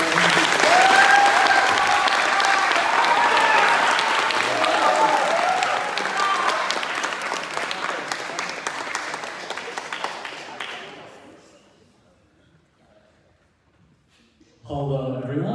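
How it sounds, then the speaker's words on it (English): An audience at a university lecture at Yale applauds loudly for about ten seconds, then the clapping thins out and dies away, and a voice starts speaking at the very end. "everyone give a round of applause for Aaron"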